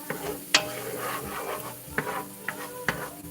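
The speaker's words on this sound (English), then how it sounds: "I meant to drop the butter in there before I dropped the onions" Onions and butter sizzling in a pot for chili, a dense steady frying hiss close by, broken by a few sharp scrapes and knocks of a spoon stirring against the pot.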